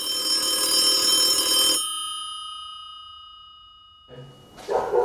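A telephone rings once with a bright, loud bell that fades over a couple of seconds into silence, followed by a faint rustle and a brief clatter near the end.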